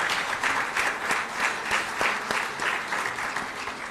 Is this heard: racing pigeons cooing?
no